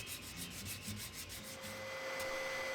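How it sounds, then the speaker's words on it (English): Hand sanding around the inside of a wooden shadow box frame: a steady, close abrasive rubbing in quick repeated strokes, fairly quiet, with a faint steady hum in the background and no talking. "you can sand the rest of the interior by any means possible"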